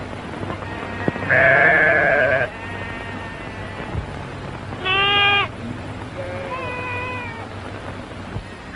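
Sheep bleating on a drive, several loud drawn-out baas close by spaced a few seconds apart over a low background rumble, no talking.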